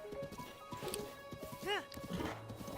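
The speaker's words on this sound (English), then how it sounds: "This is the starter horse." A horse in the video game Breath of the Wild, with quiet clip-clop hooves and a brief whinny beneath a person talking.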